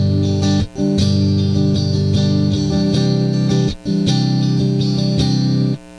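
Electric guitar run through a Valeton GP200 multi-effects unit with an acoustic impulse response and EQ shaping, strummed chords ringing steadily with two brief gaps, bright and upfront with no talking.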